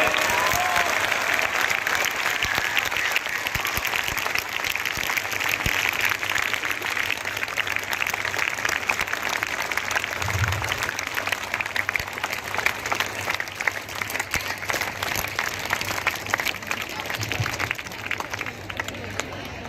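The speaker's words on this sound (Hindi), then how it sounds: "आप सब लोग एक बार इस बाल दिवस के अवसर पर बच्चों के लिए और बच्चे खुद भी एक बार जोरदार तालियों से भक्कर हो।" Children at a Children's Day event break into loud, sustained applause, a dense wash of clapping that runs steadily for about twenty seconds with crowd voices mixed in.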